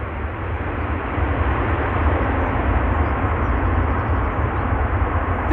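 Airliner on approach to runway 06 at Amsterdam Schiphol Airport, a steady broadband jet roar holding loud and constant throughout with a slight swell after the first second, no voices.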